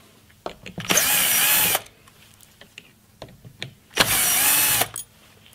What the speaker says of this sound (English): making sure my drill goes the right way